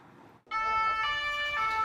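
Loud wailing emergency siren from central Paris streets, carried through a news broadcast, bursting in abruptly after a moment of low background noise and holding a bright, rising tone.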